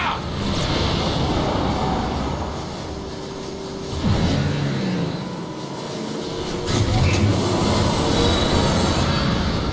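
Trains in a Transformers video game rumble past in a dense, continuous roar with metallic screeches and whooshes rising and falling, loud and close throughout.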